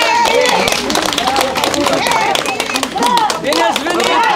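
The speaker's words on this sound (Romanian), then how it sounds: "Vă rog să-i aplaudăm pe cei care vin la Ungheni" A crowd applauds arriving guests at a Moldovan National Day rally in Ungheni, steady rhythmic clapping with shouting and crowd voices mixed throughout.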